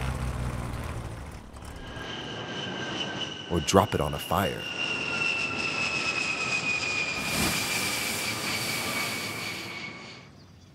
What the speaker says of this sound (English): There are planes with jets, and planes with propellers.